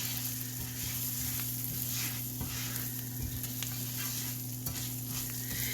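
Risotto rice toasting in oil and butter in a pan over medium-high heat gives a steady, close sizzle with occasional light scrapes and stirring clicks, and no one speaks.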